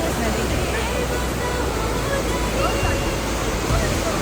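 River water rushing and falling at Kateel temple: a dense, continuous roar that stays loud throughout, with a faint murmur of voices underneath.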